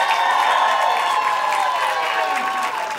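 Audience at a live comedy show in Dallas clapping and cheering steadily for about three seconds, a dense crowd wash that stays loud throughout.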